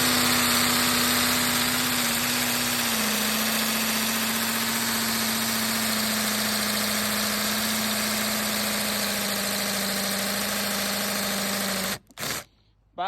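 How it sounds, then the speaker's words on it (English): A Makita cordless drill drilling into cement gives a steady, loud motor whine that runs nearly unbroken for about twelve seconds, then cuts out abruptly with a couple of brief bursts at the end. "Now I'm just drilling cement with this Makita piece of junk."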